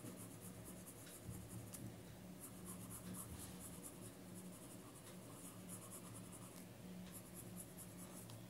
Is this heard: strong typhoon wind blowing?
no